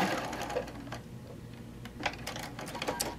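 A sewing machine stitches a quilt block onto a straight quilt border, its needle running in a rapid, steady mechanical patter with a few louder bursts, close and alone.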